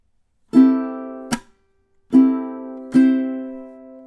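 A ukulele plays measure 8 of a song: four ringing plucked notes or chords at an unhurried count, each sustaining and fading before the next, close and clear with no voice over them.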